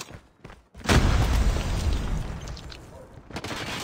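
A grenade explodes in Call of Duty Mobile during a team deathmatch, a loud, close boom that hits suddenly and then rumbles and decays over a few seconds, with brief game noise before it and no speech.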